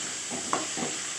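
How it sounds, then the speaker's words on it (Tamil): Capsicum fries in a pan with a soft, steady sizzle, broken by a couple of brief stirring scrapes within about a second. "குடமிளகா சேர்த்து ரெண்டையும் நல்லா கோல்டன் ப்ரௌன் ஆகிற வரைக்கும் நல்லா வறுக்கணும்."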